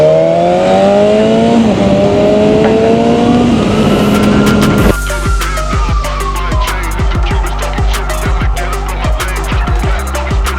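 A 2025 BMW S1000RR superbike with the M Package revs its engine close by, the pitch climbing smoothly before dropping into a loud, steady, throbbing idle with sharp mechanical ticks.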